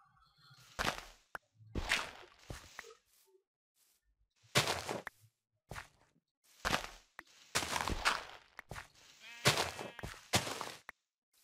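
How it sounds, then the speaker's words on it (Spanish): Sheep in the video game Minecraft bleating several times, separate short bleats spaced across the clip with quiet gaps between them, some louder and nearer than others. "Ovejas, hay ovejas, acá, allá hay ovejas."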